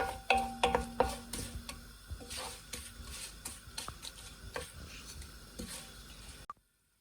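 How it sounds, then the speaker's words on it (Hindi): Fried onions reheat in hot oil, giving a soft sizzle broken by frequent clinks and scrapes of stirring utensils against the pan, before stopping abruptly near the end. "जैसे आपने देखा है ये 2-3 मिनट के बाद कैसे सीजल होने स्टार्ट हो जाता है गर्म होने के लिए"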